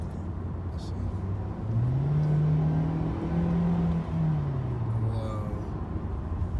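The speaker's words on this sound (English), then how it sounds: "Like it doesn't rev down as quick as it should be" Compact sedan engine revving during an acceleration test, a rising then falling whine held for a few seconds over road rumble, heard from inside the car.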